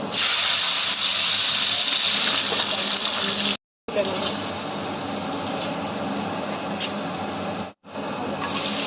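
Beans and capsicum fry in a hot pan, producing a loud, continuous hiss that breaks off briefly twice before carrying on.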